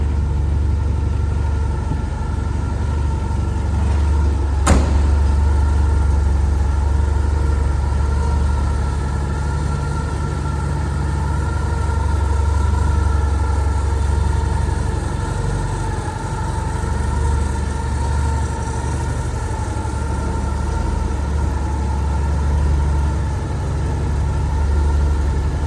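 A Porsche 924S rally car engine idles steadily after a cold start, a close, continuous low rumble with a constant hum throughout and one brief click near the start; no one speaks.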